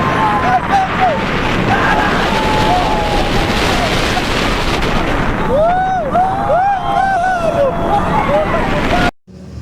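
A Mako roller coaster ride at SeaWorld Orlando, heard as a loud, steady rush of wind and roaring track noise throughout, with a few brief voices and whoops during the run before it cuts off abruptly at the end.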